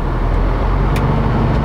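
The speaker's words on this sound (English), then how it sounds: "automatically revs the engine for you" A MAN TGX truck's engine revs up on its own under cruise-control resume, heard as a steady, loud low rumble throughout, with no speech.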